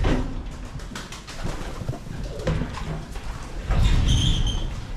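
Pigeons coo in a loft housing young birds, soft throaty calls repeating close by over faint rustling, shuffling and light clatter.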